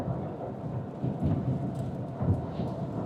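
Rain starts to fall with rolling thunder during a road trip drive, heard as a continuous low, muffled rumble with a few swelling surges over a soft wash of rainfall, and no voices.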